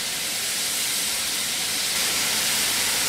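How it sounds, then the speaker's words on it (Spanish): Steady, dense sizzling hiss of salami frying in a small pan, continuous and fairly loud, with no voices. "En una sartencita aparte voy friendo el salami hasta que dore un poquito."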